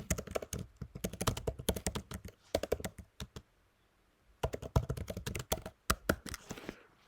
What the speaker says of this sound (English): You can type whatever you want.